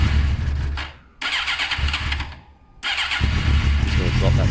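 Suzuki GSX-R 600 SRAD motorcycle with its standard exhaust can revs loudly and throatily nearby, dipping twice between bursts, with people talking under the engine.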